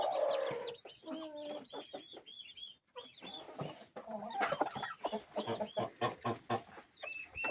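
A hen clucks close by in a repeated, uneven series of short calls, with a few louder squawks and brief quiet gaps between bursts.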